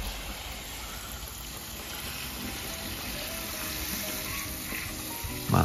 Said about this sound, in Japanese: はい、シャワーでの水やり